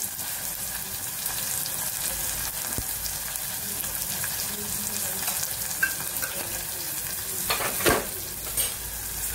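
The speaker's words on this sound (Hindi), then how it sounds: "अब हम इसको अच्छे से मिक्स करेंगे" Spices, red chili powder and mango powder being stirred into green chilies in a hot pan, a steady close sizzle with scraping stirs, a few louder spoon knocks near the end.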